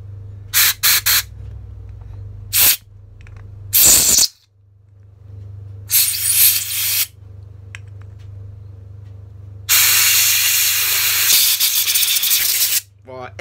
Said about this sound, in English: What this is doing is blowing all the debris out and also blowing all the surplus carb cleaner out.